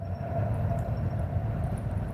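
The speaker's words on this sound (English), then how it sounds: "Let me know if that train is too loud." A passing train heard from a freshwater carp-fishing spot makes a steady low rumble with a faint humming tone. It is continuous and moderately distant, and no one speaks.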